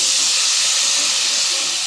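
Tomatoes sizzling in hot oil in a pan, a loud steady hiss without a break.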